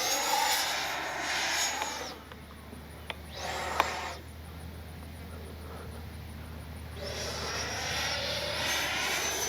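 A radio-controlled model jet plane flies overhead with a loud jet whine that swells and fades as it makes repeated passes. A brief quieter stretch falls between the passes.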